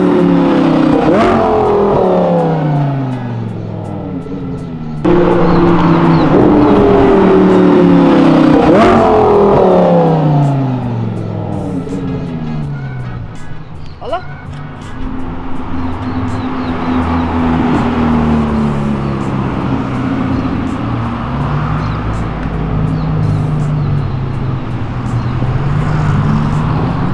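Sports cars including a Lamborghini, BMW and Ferrari downshift and rev hard along Avenida Europa, with loud repeated engine sweeps rising and falling close by, then a steadier rumble of passing traffic.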